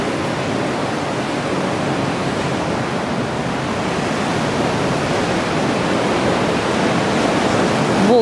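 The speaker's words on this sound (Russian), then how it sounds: "Глянь, как волны, как из труб вырываются вообще." Sea waves burst out of pipes on the shore at Sochi with a continuous roaring, hissing surge of rushing water. The sound is loud and steady throughout, like a waterfall, with no speech.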